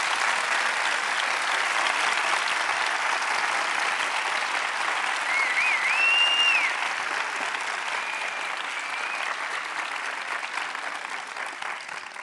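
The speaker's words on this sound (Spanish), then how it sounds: "Pido un aplauso para ella" A theater audience at a live onstage interview event at an arts center delivers loud, sustained applause that holds strong for several seconds before gradually tapering, with a faint whistle heard above the clapping.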